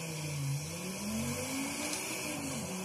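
A 1995 Audi Avant RS2 engine revs in the racing video game Forza Horizon 5, its pitch rising and falling smoothly as it accelerates around a track, a steady synthetic roar with no talking.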